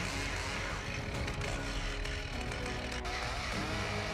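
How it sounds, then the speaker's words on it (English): A powerful chainsaw roars steadily while cutting through giant logs, a loud continuous motor whine with no pauses. "Nothing can stop the overwhelming power of this chainsaw, even when faced with giant logs."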